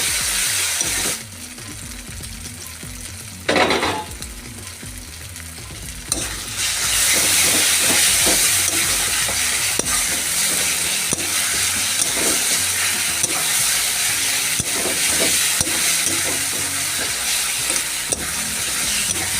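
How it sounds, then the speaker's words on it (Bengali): Ginger garlic paste sautés in a pan for a catfish curry, a loud continuous sizzle with repeated scraping stirs and occasional light clinks of the spoon against the pan. "যতক্ষণ না আদা রসুনের কাঁচা গন্ধটা যায় ততক্ষণ এইভাবে কষিয়ে নেব।"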